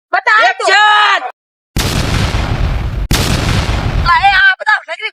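Two heavy gunshots in a comedy skit land as loud booming blasts with long rumbling tails, set between stretches of excited voices.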